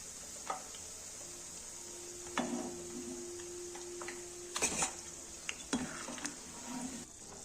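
Pakoras deep-frying in a pan for a kadhi dish, a steady sizzle throughout with scattered clinks and scrapes of a utensil against the pan as they are lifted out; no talking.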